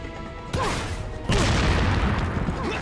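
Two loud, booming blasts from a rocket launcher and then a dynamite stick in Resident Evil 4, each a sudden broadband burst at about half a second and one and a quarter seconds, leaving a dense rumbling roar that carries to the end.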